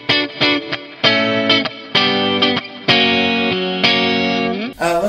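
Electric guitar played through a Walrus Audio Fathom hall reverb pedal, a series of strummed chords each ringing out with a lush, spacious wash of reverb trailing behind the attack, loud and close.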